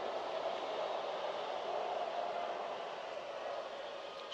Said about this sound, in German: Straßenbahn.